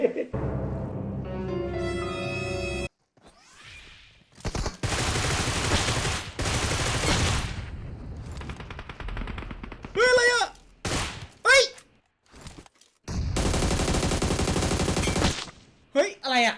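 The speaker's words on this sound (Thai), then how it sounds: "มันมีคนข้างหน้ายิงสไนรัว" Rapid, sustained bursts of gunfire from a Groza rifle in a PUBG match, loud and dense with brief pauses and faster sniping shots, while a player's voice is heard at times.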